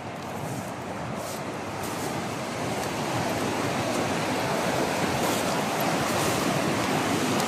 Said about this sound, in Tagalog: malakas yung alon dito